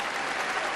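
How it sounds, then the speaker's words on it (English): Audience at the 1976 Miss World pageant applauding a contestant, a steady, dense wash of clapping from a large crowd that fills the whole moment without a break. "Come on, she deserves some applause."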